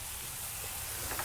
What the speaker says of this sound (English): Got a good sizzle going on our Gator Pit,